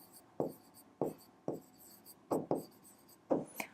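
A pen marks paper by hand while shading an angle for a class 8 maths exercise, giving soft, close scratchy strokes in short bursts roughly every half second, with no talking.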